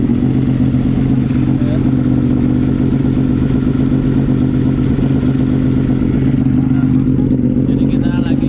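A Yamaha R6 sport motorcycle with a fault, in for service, idles loud and steady with a deep, even engine drone and some mechanical clatter, close by in a workshop.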